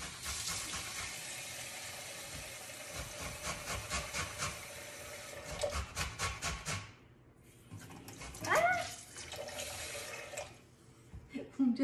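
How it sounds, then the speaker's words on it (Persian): Tap water pours steadily into a sink for washing rice in a home kitchen, a continuous rushing hiss that stops partway, followed by quieter splashing and handling sounds; no speech is heard. "من برنجم بشورم."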